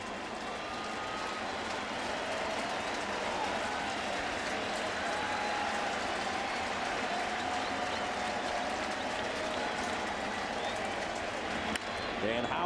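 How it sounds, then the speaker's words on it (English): A baseball crowd at a Cardinals home game against the Phillies roars and applauds in a broad, sustained swell that fills the whole stretch, with a voice talking over it. "Crowd again will come alive."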